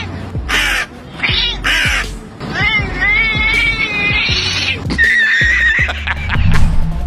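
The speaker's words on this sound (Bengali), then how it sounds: "বিড়াল কিভাবে উত্তর দিল তা শুনুন" A cat meows in reply to a crow outdoors, the crow's caws and the cat's drawn-out meows alternating at close range over several seconds against faint background noise.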